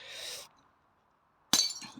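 A small glass wine bottle smashes with a sudden loud crash and tinkling shards, close by, after a brief hiss and a moment of silence.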